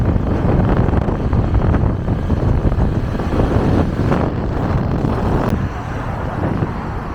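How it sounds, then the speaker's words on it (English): Strong wind on a hot, windy day at Copacabana beach in Brazil, blustering and buffeting a microphone in heavy gusts, with a faint background rumble of passing traffic. "it's quite a windy day today"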